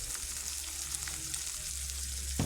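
Chopped ginger, garlic, onion and a large diced tomato saute in a pan for a squid roast, producing a continuous bright sizzle with light stirring sounds and a low hum beneath.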